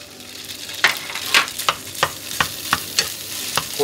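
Sushi rice with its vinegared grains being stir-fried into fried rice in a pan over high heat, a steady sizzle broken by regular scraping stirs roughly every half second, close and clear without speech.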